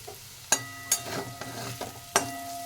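Potatoes with pea pods frying in oil in a pan over an open flame, with a steady soft sizzle broken by several sharp scraping stirs of a spatula, close and alone without voices.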